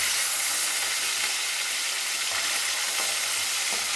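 Dried salted hilsa fish frying in a pan, giving a steady, close, broadband sizzle and hiss throughout, with a few faint stirring knocks and no voices.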